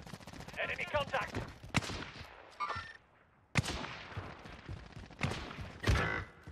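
Gunfire from the video game Call of Duty Warzone, with bursts of sharp shots and a few louder reports scattered across several seconds, as voices talk between them.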